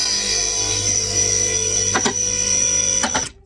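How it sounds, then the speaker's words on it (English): A hydraulic home hoist lifts a vehicle with a steady mechanical whir and hum, its locking mechanism clicking sharply a few times as it rises, close and without speech. "The noise you can hear is the locking mechanism of the hoist"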